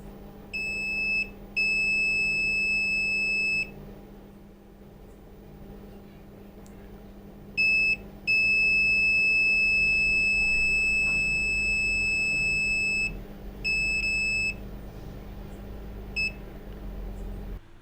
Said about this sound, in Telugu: బజర్ సౌండ్ కూడా మంచి క్లారిటీతోని హై క్వాలిటీతోని మనకు హై సౌండ్తో కూడా మనకు బజార్ సౌండ్ వస్తుంది